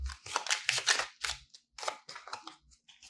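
A deck of Lenormand cards cut once, giving a run of close, crisp papery riffles and snaps, loud and dry, with short pauses between bursts and no talk.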